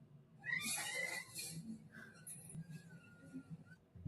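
A cat lets out several high-pitched, wavering meows and squeals, fairly close but quiet, with faint background shuffling between cries.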